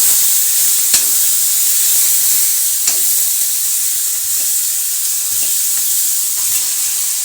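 Steady frying sizzle of cluster beans fills the background while a utensil scrapes and stirs through the pan in occasional sharp knocks, close up, with no talking.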